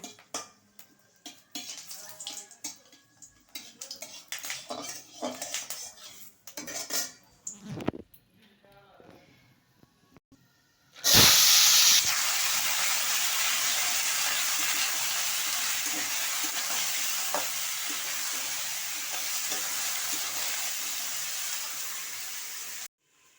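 Radish sizzling as it fries in hot oil with dried chilies, a loud steady hiss bursting in suddenly and holding for several seconds after quieter kitchen handling sounds and clatter.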